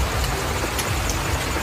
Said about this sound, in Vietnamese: Trời ơi trời mưa chị sợ không chết luôn chị Trâm